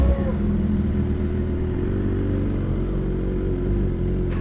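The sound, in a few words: motorcycle engine revving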